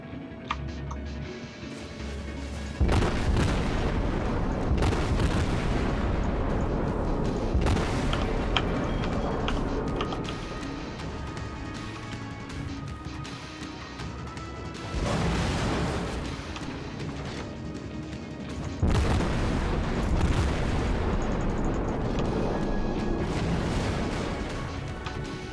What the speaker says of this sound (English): those shots are not going anywhere near him